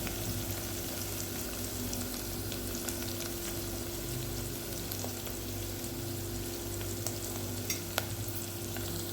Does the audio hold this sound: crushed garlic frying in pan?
yes